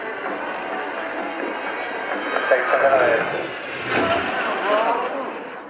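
An aerobatic aircraft flies over the RIAT 2018 airshow at Fairford, its engine a steady droning roar that swells and fades as it manoeuvres, with a voice talking over it.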